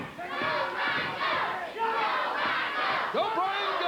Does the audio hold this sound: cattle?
no